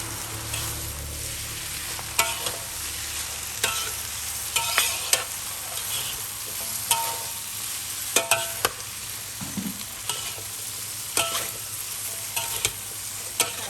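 Glass noodles with roasted chili paste are stirred and tossed in a large wok, giving a steady close sizzle broken by repeated scraping clacks of the spatula, with no talking.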